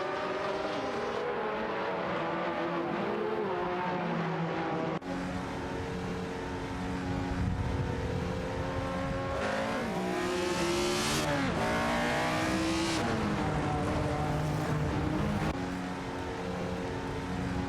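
Several race cars in an AI racing video game, one a Ford, roar continuously with engines rising and falling through gear shifts and revs, multiple cars overlapping near and loud throughout.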